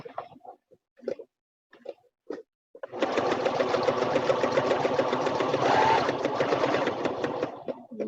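A sewing machine stitches through fabric for a fabric tray, a close, steady mechanical chatter lasting several seconds, preceded by a few short spoken phrases before the motor starts.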